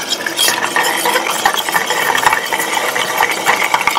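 A Dirty Martini is stirred with ice in a mixing glass at a cocktail bar, producing a dense, close, continuous rattle of ice clinking and churning, loud and without talk.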